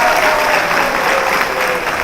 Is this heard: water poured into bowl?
no